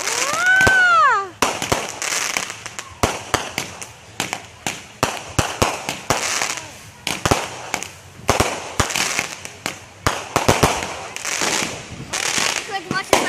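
Fourth of July fireworks go off poolside in Florida, opening with a whistling rocket, then a dense run of sharp crackling bangs and pops at varied distances, loud and irregular.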